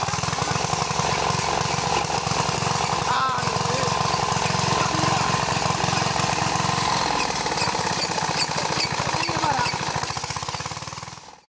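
An old engine on a field irrigation machine chugs close by, loud and steady, with a fast thumping beat. Near the end it fades away.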